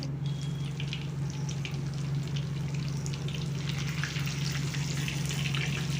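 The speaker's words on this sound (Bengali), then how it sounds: "কম তেলেই মাছগুলোকে ভাজা হবে আমি এখন দুটো দিলাম দুটো করে ভাজবো" Fish frying two at a time in a small amount of very hot oil over medium gas flame, a steady close sizzle with a constant low hum underneath, no talking.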